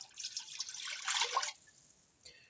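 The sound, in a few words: pouring water into broth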